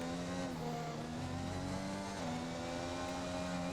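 A Formula 1 race car in F1 2021 is driven through a corridor of a simulated Portugal circuit, its engine holding a steady, strained drone with small pitch shifts as it's eased along, alone throughout.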